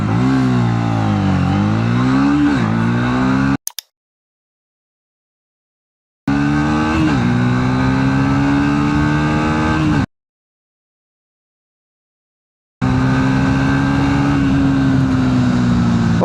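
A 2026 Triumph Speed 400 (349cc) motorcycle revs hard and climbs through the gears in three loud full-throttle 0 to 100 km/h runs, each cut off abruptly by silence.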